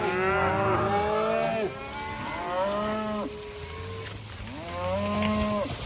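Several cattle moo loudly and repeatedly, long drawn-out calls overlapping one another, close by over a faint outdoor background.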